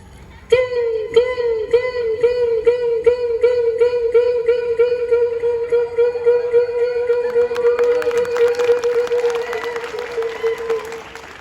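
A boy vocally imitates a tuntuna, a single-string folk instrument, with a steady twanging drone pulsing in a regular rhythm, followed by audience applause and cheering.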